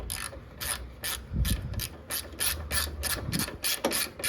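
Ratcheting wrench tightening 10mm bolts on a replacement hood latch of a 2002-2006 Toyota Camry, giving a steady run of about a dozen short, close, crisp clicks with faint metallic handling underneath and no talk.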